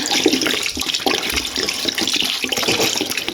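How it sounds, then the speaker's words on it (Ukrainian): Vinegar poured over salted, rinsed silver carp in a container with a little water, a steady liquid splash and trickle continuing throughout at close range with no talk. "Тилку оцту я сюди налила."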